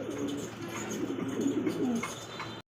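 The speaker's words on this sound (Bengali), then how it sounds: "দেখতে পাচ্ছি আরো এক পাল্লা আরো কবুতর দেখেন" Soft, low pigeon cooing rolls on in a steady series of throaty coos over faint outdoor background noise.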